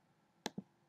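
A computer mouse gives two quick, crisp clicks close together, sharp and near against a quiet background.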